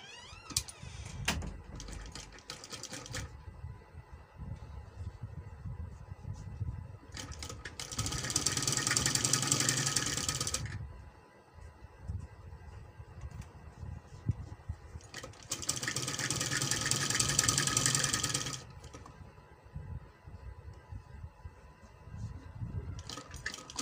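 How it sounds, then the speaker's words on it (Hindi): Sewing machine stitching a band onto kurti fabric, two bursts of steady whirring a few seconds each, separated by quieter handling and clicking noises. "अब इसे यहाँ पैर की सिलाई लगाते हैं।"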